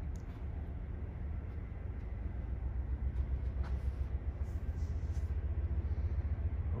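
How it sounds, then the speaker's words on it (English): Long train rolling past at night, a steady low rumble and clatter that holds for the whole stretch without any talk over it. "It sounds like a long train."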